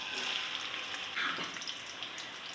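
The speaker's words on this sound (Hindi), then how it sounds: "घी गर्म हो चुका है। अभी प्याज डालूंगी।" Onions frying in hot ghee for a Punjabi kadhi pakora, a steady close hiss and sizzle with light crackling throughout and no talking.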